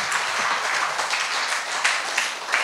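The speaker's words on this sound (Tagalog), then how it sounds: "Isang malakas na palakpak sa Panginoon." A church congregation applauds together after a prayer, a dense, steady wash of clapping that stays even and fairly close throughout, with no talking over it.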